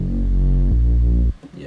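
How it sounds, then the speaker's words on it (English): A distorted synth bass holds one gritty, buzzing low note for just over a second, then cuts off abruptly into a brief quiet tail. "That's the distortion I always add to like every bass."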